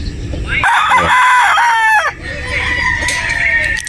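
A Boston Roundhead gamefowl rooster, a stag, crows once loudly and close by in a long, rising and falling call, followed by softer clucking and fowl noise.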